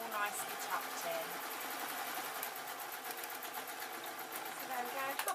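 A sewing machine running reverse stitches on a seam of a simple owl sewing project: a steady, close mechanical whir with rapid rhythmic ticking throughout, and someone talking over it.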